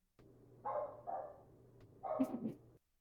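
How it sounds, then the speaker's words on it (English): A dog barks indoors in a few muffled, moderately quiet bursts: two short barks close together, then a pause and a final longer bark with a whimpering edge. "She doesn't usually bark like this."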